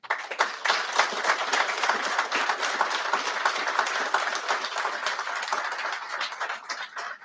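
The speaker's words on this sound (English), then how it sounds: "if we give one more round of applause for Mr. Moore and all our awardees today" An audience at a 2022 national awards ceremony claps for Mr. Moore and the award recipients, a dense, steady wash of many hands sustained at full strength for about seven seconds with no talking over it.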